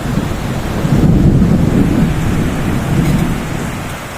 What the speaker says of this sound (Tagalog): Takot ako sa kulog at kidlat.